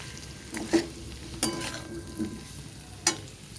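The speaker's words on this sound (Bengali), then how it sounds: "এরপর এইটাও দিয়ে কিছুক্ষণ নেড়ে চেড়ে নেব ঢাকা দিয়ে।" Spatula stirs potatoes with cumin powder and kasuri methi in a pan for achari jeera aloo, four distinct scraping strokes spaced apart over a soft, steady sizzle.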